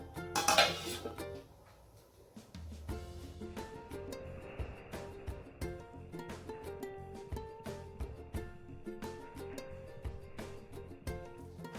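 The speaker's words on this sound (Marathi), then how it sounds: "आपण ह्याच्यावर झाकण ठेवणार आहे" Metal lid set onto a pot of fresh rajma curry cooking on the stove, a bright clang near the start followed by quieter clinks and kitchen clatter at low level.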